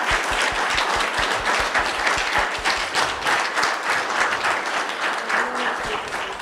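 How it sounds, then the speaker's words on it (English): Audience applause at a university livestreamed event, dense steady clapping from a crowd filling the whole stretch without pause. "let's have another round of applause."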